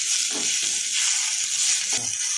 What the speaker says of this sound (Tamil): ஒரு கொஞ்சோண்டு எண்ணெய் ஊற்றுதேன் இந்த இலைய வறுக்கணும்